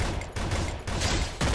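A video game automatic weapon fires in dense sustained bursts, loud and close, with a brief gap between volleys and no talking.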